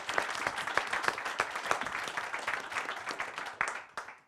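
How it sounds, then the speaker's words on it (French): A room at a municipal council meeting in Miniac-Morvan fills with lively applause from a modest group, individual claps distinct and close, tapering off and fading out at the end. "je l'applaudis encore une fois"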